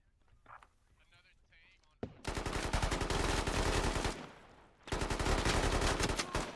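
Loud, dense automatic gunfire from the Squad video game comes in two sustained bursts of rapid shots, with a quiet voice talking just before.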